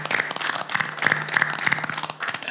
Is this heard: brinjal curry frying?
no